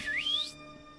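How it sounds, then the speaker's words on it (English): A single person whistles a rising tone that slides upward over about half a second and then stops, with a faint steady background behind it. "And you whistle."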